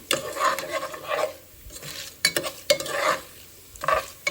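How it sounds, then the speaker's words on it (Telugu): Tempering spices crackle and sizzle in hot oil for Andhra-style pappucharu, close bursts of frying noise with sharp spatter pops and light utensil clinks, no voices. "ఆయిల్ పెట్టి తాలింపు దినుసులు అయితే వేసేసాను"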